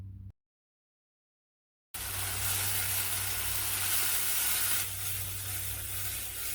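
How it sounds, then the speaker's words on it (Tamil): Green chili paste sautéing in a pan for a spicy sambal, giving a steady, loud broadband sizzle that runs continuously after a brief silence, with no talk over it. "அரைச்ச விழுது சேர்த்து ஒரு 2 நிமிஷம் வதக்கி விடலாம்."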